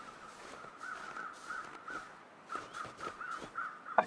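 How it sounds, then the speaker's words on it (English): Crows cawing in the snowy wilderness of the survival game The Long Dark, a string of harsh calls spaced irregularly over a soft wind-like background, moderately distant, no talking. "Okay, I can hear some crows."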